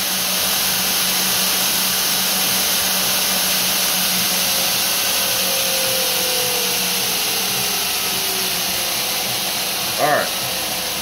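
Belt grinder roughing out a hollow grind on a knife blade using a compound jig, a steady loud abrasive whir with a constant motor hum that runs for the whole stretch without pause.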